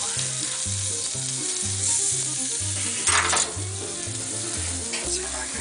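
Pork loin sizzles steadily on a Blackstone griddle right after being flipped, a loud continuous frying hiss with a brief sharper crackle burst midway, no talking.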